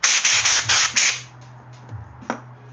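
Sanding a wooden piece with 80 grit sandpaper: a run of loud, rhythmic rasping strokes close by, then quieter scattered scrapes and a light tap.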